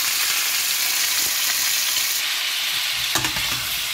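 Zucchini frying in a pan gives a steady, close sizzle throughout, with a few scraping stirs near the end and no talking.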